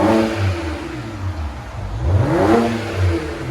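A 2007 BMW 335i with dual exhaust and the muffler deleted revs in a couple of deep, mid-pitched swells, rising and falling, heard fairly close and alone.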